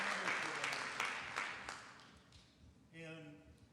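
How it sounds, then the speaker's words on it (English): Applause from an audience at a city council meeting after an elementary school is announced as the winner, a dense clatter that fades over about three seconds. Talk runs over the clapping, and a voice takes over at the end. "Let's give them a round of applause."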